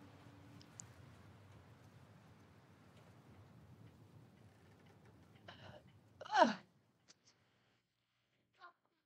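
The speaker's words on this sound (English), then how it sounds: "I feel a sneeze coming on." A single sharp sneeze from someone in the middle of a bout of repeated sneezing, preceded by a short breathy intake and followed by a faint click, heard close and alone against a quiet room.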